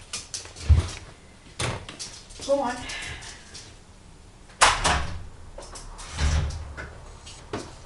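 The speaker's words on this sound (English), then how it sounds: "I'm going to open the door for him." A house door opened on a chilly night, with a few sharp knocks and thuds and a sliding scrape among them, heard between stretches of people talking.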